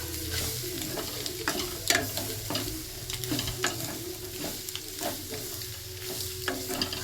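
Beaten eggs hit a hot pan of onion masala with curry leaves and spices, then sizzle and fry steadily while a spoon stirs and scrapes in irregular strokes, close and continuous with no talk.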